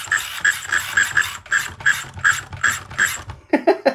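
A Furitek brushless motor in an SCX24 RC crawler being throttled up repeatedly, each burst a close, rapid mechanical whir with a gear-like ratcheting buzz, about ten quick pulses in a row, then a brief voice at the end.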